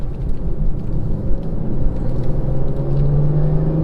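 A BMW M140i automatic with a modified exhaust drives along, its engine rumbling steadily up close with a rising drone partway through.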